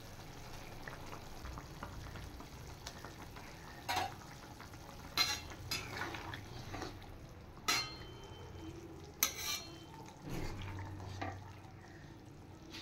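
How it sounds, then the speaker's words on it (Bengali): Fish dropped into boiling curry gravy with kalmi greens, a low steady bubbling simmer with occasional sharp clinks and scrapes of a spoon stirring the pot, quiet and close, no talk. "এবার আমি মাছগুলো ছেড়ে দেব।"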